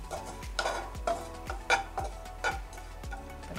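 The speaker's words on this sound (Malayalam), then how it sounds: "ഈ പൊടിച്ച നാളികേരവും കൂടെ ഒന്ന് വറുത്തെടുക്കാം." Ground coconut dry-roasting in a pan, with a spatula scraping and stirring in a steady rhythm of sharp strokes about every half second over a faint sizzle, close and fairly quiet.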